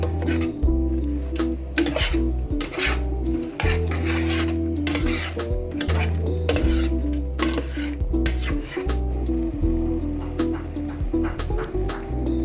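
A utensil scrapes and clinks against a bowl in quick repeated strokes as blended chili sauce is stirred, loud and close.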